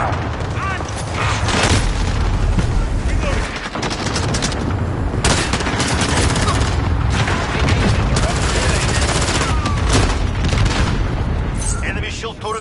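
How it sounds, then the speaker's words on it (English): Cluster strike explosions and gunfire in Call of Duty, a dense barrage of booms, rattling automatic fire and mechanical clatter filling the whole stretch, with a game announcer voice speaking over it. "Enemy cluster strike. Take cover."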